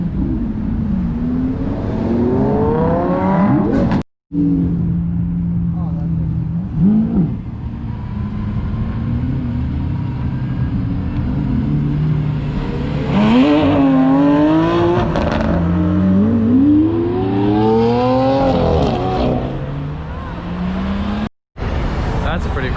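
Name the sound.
Jaguar XK8, Lamborghini Huracan and Lotus Evora GT driving away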